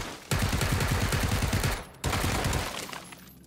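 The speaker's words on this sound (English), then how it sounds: "Ah, shot me! Through the window." Gunfire in the game PUBG, with a shot through a window: two loud, close bursts of rapid automatic fire, separated by a brief gap, the second trailing off.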